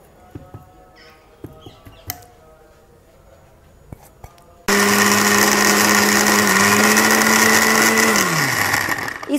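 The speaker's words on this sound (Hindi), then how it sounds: "थोड़ा और मिक्सी को चलाएंगे और फाइन पेस्ट होने तक इसे ग्राइंड करेंगे" After a few quiet clinks, a mixer grinder switches on abruptly and whirs loudly and steadily while grinding poppy seeds and almonds into a fine paste, its pitch dropping slightly near the end.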